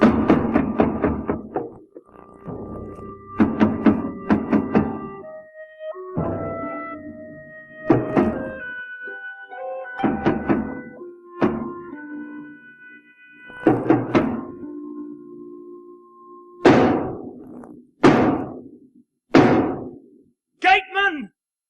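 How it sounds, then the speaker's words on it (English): In a 1983 staging of the Oresteia, someone pounds on a gate: loud, sharp knocks come in bursts, mixed with voices speaking and calling out over much of the stretch. "can't you hear all this knocking?"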